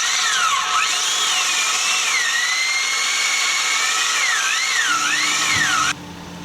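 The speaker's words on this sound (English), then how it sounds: "So I swapped over to a different size drill bit, a little bit bigger." A power drill bores a hole through the steel drum of an ugly drum smoker with a slightly larger bit, giving a steady, loud, high-pitched whine that dips and rises in pitch as load changes before cutting off abruptly near the end.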